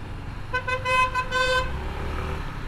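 A car horn sounds in one sustained honk with a slight wobble, standing out over the low rumble of traffic on an Indian street.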